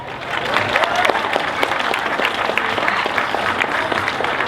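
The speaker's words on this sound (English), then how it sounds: "Please give a round of applause for those folks" Crowd applause at the 2019 Franklin County Pride Parade, a loud, dense patter of many hands clapping continuously from close by, with scattered sharper claps and no talking.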